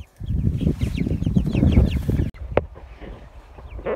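Broiler chickens on a farm give busy, overlapping clucks and chatter, fairly loud and close for most of the stretch, then thinner after a brief drop.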